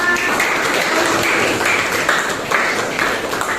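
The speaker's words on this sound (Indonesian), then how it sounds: "beri tepuk tangan untuk kelompoknya" Participants in a teachers' academic-supervision coaching session clap for a group, a steady, dense patter of applause lasting several seconds with no talking over it.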